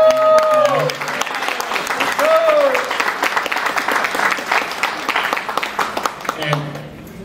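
Big round of audience applause for the First Lady of Network of Champions, loud and continuous, filling the room as an announcer's voice speaks over it at the start and a few voices call out.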